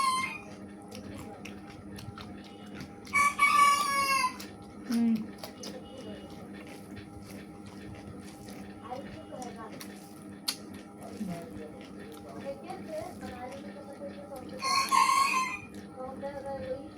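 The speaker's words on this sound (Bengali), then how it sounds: "মোরগটা প্রচুর পরিমাণে ডাকছে।" A rooster crows twice, loud and fairly close, with a long gap between calls, over a quiet indoor background with occasional soft clinks.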